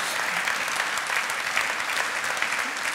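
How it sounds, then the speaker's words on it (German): Audience applause at the Giga-Hertz-Preis 2012 award ceremony, a dense, steady wash of many hands clapping that fills the whole three seconds at an even level. "Und das ist ein Applaus wert"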